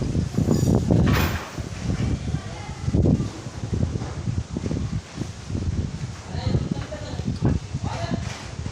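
Wind blowing steadily outdoors, a continuous loud rushing and rustling of leaves that fills the whole stretch, with voices faintly mixed in.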